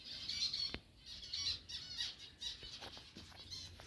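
A young bulbul gives repeated harsh, squawking calls in quick, uneven bursts, close but fairly quiet, with no talking.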